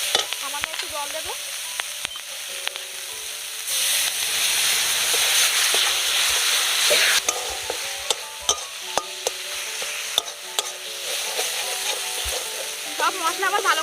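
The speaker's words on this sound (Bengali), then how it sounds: "সব মশলা আমার ভালো করে কষিয়ে নেওয়া হয়ে গেছে।" Spice masala with dried chilli powder, grated green chillies and a splash of water frying and being stirred in a pan for a mutton fat chop; a steady close sizzle with scattered scraping clicks of the spoon throughout.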